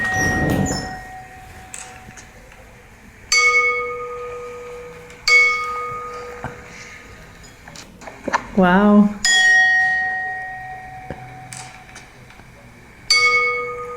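Resonant metal balls struck one after another with a microphone held close, bright ringing tones that sustain and decay, several separate strikes over the span, with a brief exclaimed word partway through.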